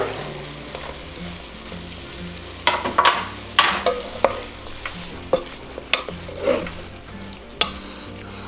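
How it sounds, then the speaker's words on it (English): Kielbasa being stirred into a pot of cowboy stew, with repeated scraping and clacking of a spoon against the pot over a soft sizzle, loud and close. "We're just going to come in here and get our kielbasa mixed right on in there"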